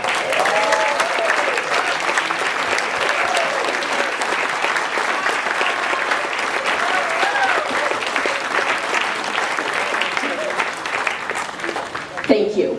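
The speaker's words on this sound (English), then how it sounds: "We shouldn't hold off on that applause, should we?" Sustained audience applause for the staff at a Navigator Night Out event at a Maritime Center, steady broad clapping throughout with some voices and cheers mixed in, ending abruptly with a louder close knock.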